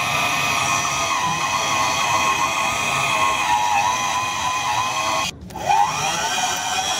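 A drill bit grinding through a broken, stuck shock absorber bolt makes a loud, steady whine with shifting pitch, briefly cutting out near the end before starting again.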